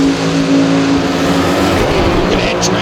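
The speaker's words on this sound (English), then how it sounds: "Look at that drag race." A Top Fuel dragster at a drag racing event in St. Louis roars steadily and loudly close by, a dense engine blast holding throughout with a small rise near the end, no talk over it.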